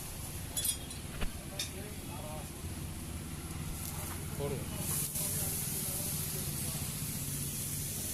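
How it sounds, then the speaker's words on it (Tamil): Raw mango slices frying in oil on a flat griddle give a steady, hissing sizzle throughout, with a few soft clicks near the start. "இப்போ வந்து நம்ம கல்லில் போட்டு ஆயில் ஊற்றி நல்லா ஃப்ரை பண்ணிக்கலாம்"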